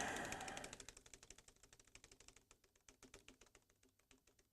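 Rapid typing on a broken office PC keyboard: a run of quick, dry key taps in an irregular rhythm, fairly close but faint, with no talk, after a short burst of louder noise at the start.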